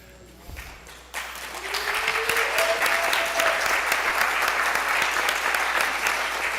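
A Rotary club audience applauds three nominees for director, the clapping swelling quickly after a brief pause and holding steady and full, with a faint voice briefly at the start.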